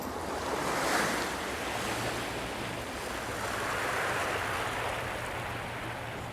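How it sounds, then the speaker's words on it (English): Choppy tidal water and surf churn at the Deception Pass estuary as the tide comes in, with waves washing in broad swells and wind buffeting the microphone. "Gets a little bit turbulent in here with the tide coming in and the estuary running out. Could be a little bit choppy"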